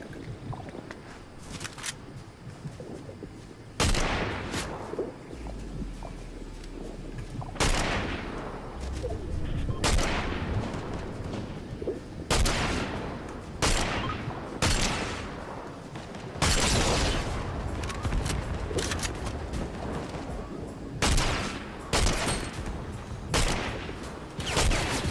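Bursts of video game gunfire crack through a busy battle scene, shots and volleys arriving irregularly at varying distances over a constant rumble of background game sound.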